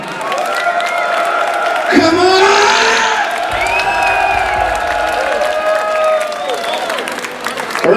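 A concert crowd at a thrash metal festival in Oostende cheers and applauds the drummer, loud whoops and shouts rising over steady clapping that swells midway and carries on throughout.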